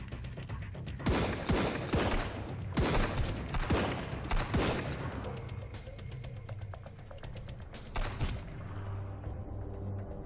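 Guns fire in the survival video game Sunkenland: loud, rapid bursts of shots crowd the first half, then thin out to a few scattered blasts over a sustained tonal game backdrop.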